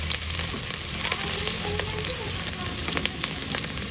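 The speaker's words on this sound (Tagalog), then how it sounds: "naglagay na ako ng konting mantika dito sa may kasirola at nagisa ng bawang at sibuyas" Garlic and onion sautéing in a little oil in a pot, a steady close sizzle and crackle with faint stirring scrapes running throughout, no voices.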